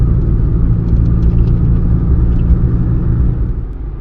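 Steady low road rumble and engine drone inside a Citroen C1 cruising at 40 mph in 4th gear after sound deadening was fitted, constant and fairly loud with no talk.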